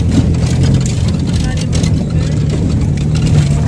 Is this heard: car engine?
yes